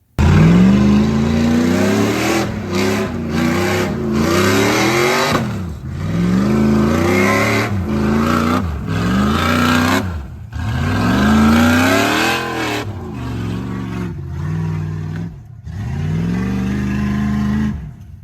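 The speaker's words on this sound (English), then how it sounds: "That was the Bronco we call the narrowed truck, called such because it is narrowed 8 inches lengthwise down the body." A narrowed Ford Bronco off-road truck runs full throttle through mud, its engine roaring loud and near in repeated rising revs with short lifts and gaps between bursts.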